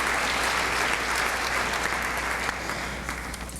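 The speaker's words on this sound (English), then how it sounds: "I would love it if you could give them a round of applause for being awesome." An audience at a junior high school eighth-grade recognition ceremony claps steadily, a dense, even round of applause that tapers slightly toward the end.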